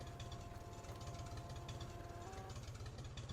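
An aging tractor engine in the Farming Simulator game runs roughly, with a fast, even knocking chug that holds steady throughout and no voices over it.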